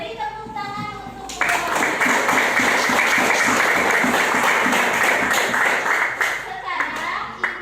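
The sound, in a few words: classroom applause, children clapping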